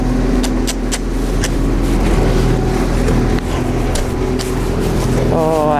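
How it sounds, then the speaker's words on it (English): A tractor engine runs outside a horse round pen, a steady low mechanical rumble under the whole stretch, with faint intermittent clicks and a rising tonal sweep near the end. "he's distracted by a tractor outside of the round pen"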